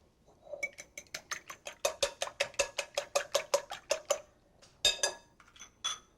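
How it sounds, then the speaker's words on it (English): Eggs are whisked in a bowl with a utensil, giving a fast, regular run of bright clinks at about four strokes a second for several seconds. A brief pause follows, then a few scattered taps, close and fairly soft. "Let me just whisk the eggs before I do that."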